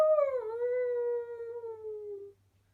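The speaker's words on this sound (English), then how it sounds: "The howl came again." A single long, eerie canine-like howl that starts high, slides down and holds a steady mournful tone for about two seconds before cutting off, loud and isolated against silence.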